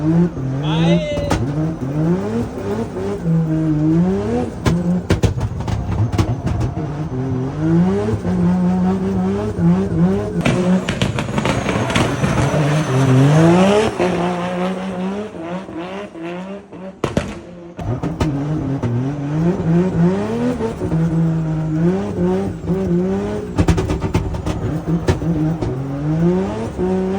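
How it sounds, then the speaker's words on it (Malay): A 600-horsepower drift car revs hard and squeals its tyres in long, repeated rising and falling engine sweeps, loud and close throughout, with a brief drop-out near the middle. "for the first time aku nak naik kereta drift"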